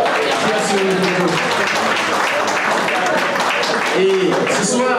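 Steady, loud crowd applause at a dinner-dance event, sustained and dense throughout, with faint voices and some tonal sounds running underneath.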